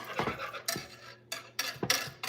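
A whisk works flour in a metal pot, making close, bright scraping swishes in uneven strokes with brief pauses between them, and nobody speaks.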